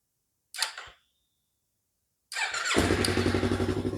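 A Yamaha R3 motorcycle with rewired electrics gives a short starter burst, falls silent, then catches and settles into a loud, steady, close idle.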